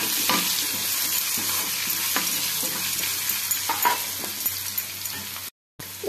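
Spices fry in a pan for aloo methi, with Kashmiri chilli powder and turmeric stirred in. A spatula scrapes in repeated strokes over a steady sizzle, close and fairly loud, then a brief silent gap near the end.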